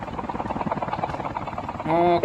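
Helicopter rotor chopping in the Call of Duty Mobile battle royale game, a steady rhythmic thrum under continuous talk, with a louder whine rising in the last moments.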